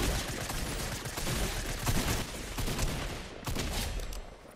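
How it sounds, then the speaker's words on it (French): Gunfire in the video game Fortnite on PS5: dense, continuous rattling volleys of shots that stay loud throughout, with slight surges and a short break near the end. "Tiens, je tire."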